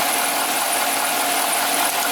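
Chevy truck engine running rich with its fuel pump commanded to full output, a steady, loud mechanical hum with a faint rattle throughout and no talking.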